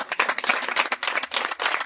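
Audience applause at a birthday and anniversary celebration, a dense burst of many hands clapping steadily and close for the whole stretch.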